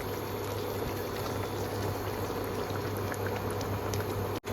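Mustard paste goes into a simmering fish curry, with steady bubbling and liquid sounds throughout, a low continuous hum underneath and a brief cut near the end.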